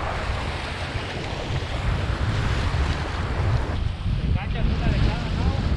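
Rough open sea at a fishing spot, a continuous loud wash of surf and churning water mixed with gusting wind noise on the microphone, steady throughout.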